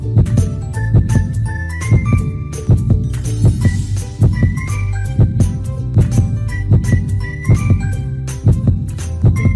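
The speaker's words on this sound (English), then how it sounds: "I hear a heartbeat." Rhythmic heartbeat inside an egg in a children's video game, steady double thumps repeating loudly throughout alongside bright tinkling game chimes and music.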